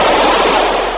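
A gun being test-fired lets off a loud, dense burst of shots that blur together into a continuous roar over one second, close and overwhelming.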